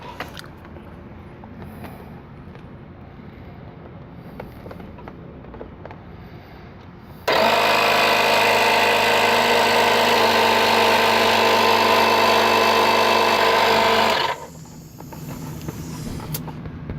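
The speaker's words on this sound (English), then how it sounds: "Test the compressor." A DBPOWER 12-volt, 150 PSI portable air compressor runs steadily and loudly for about seven seconds with a constant motor buzz, then cuts off, leaving faint background noise before and after.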